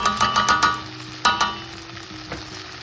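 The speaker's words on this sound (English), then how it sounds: "the spice that we stuffed inside the eggplant will start to give that flavor, and the eggplant will start to cook" Spice-stuffed baby eggplants frying in a pan, a loud close sizzle punctuated by a quick series of sharp pops and spatters early on, then a lone louder crackle and a fading hiss; no talking.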